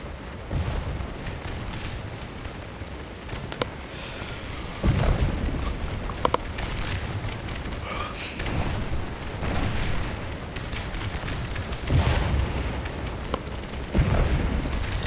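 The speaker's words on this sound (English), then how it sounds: "Cannons." Cannon artillery fire in the Scourge of War video game, a rough continuous rumble of distant booms and bursts with occasional sharper reports, no voices.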